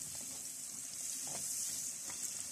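Spice paste with onion, cinnamon and cardamom frying in butter in a pan, a steady soft sizzle throughout with a few faint stirring scrapes.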